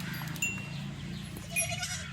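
Young goat kids bleat in short, high, wavering calls, a few close and several farther off. They sound over a steady low background hum on a farm.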